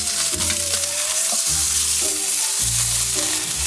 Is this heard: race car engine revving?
no